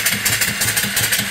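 An off-grid steam engine with a 3-inch bore and 4-inch stroke, fed through a steam hose and driving an alternator, runs steadily with quick, even chuffing beats up close and no voices.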